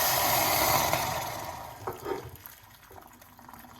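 Water pours steadily into a cup with a rushing, filling sound that fades out, followed by a couple of soft clinks and a quiet pause.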